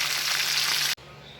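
Tilapia fries in a pan with a loud, steady hissing sizzle that cuts off abruptly, leaving a faint background hum.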